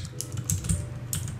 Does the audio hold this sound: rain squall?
no